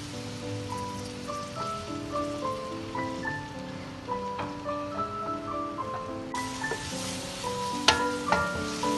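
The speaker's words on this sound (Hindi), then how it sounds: "अब मैं ये प्याज को मैं सॉफ्ट थोड़ी सी हो जाए, हल्का सा रंग तब्दील होने लग जाएगा, जब तक मैं इसको फ्राई करूँगी।" Onions frying in a cup of oil for a mutton trotters and brain curry, giving a soft, steady crackle beneath prominent background music.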